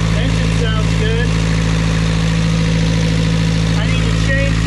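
A Beta Marine 35 marine diesel engine idles steadily and loud up close, with a constant low drone and rhythmic mechanical ticking, while faint squeaky tones come and go.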